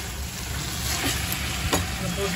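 Small chennakunni shrimp sautéing in oil in a pan, a steady close sizzle with a couple of faint scrapes and clinks.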